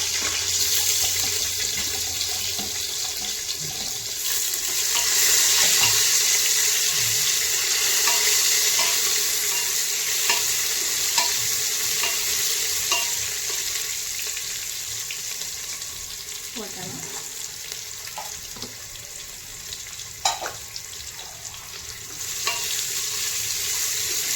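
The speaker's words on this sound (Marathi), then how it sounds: "कापलेल्या हिरव्या मिरच्या याच्यामध्ये आपण उरलेले टोमॅटो टाकूया" Leftover tomatoes hit a pan of chopped green chillies for vegetable biryani, giving a continuous close sizzle and hiss of frying with occasional stirring scrapes that grows louder after the addition and stays steady throughout.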